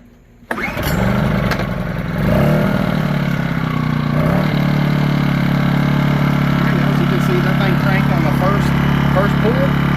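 A cold AIVOLT 1600 W inverter generator is pull-started and catches quickly, its engine surging briefly and then settling into a loud, steady close-up drone that runs for the rest of the span while a person talks over it.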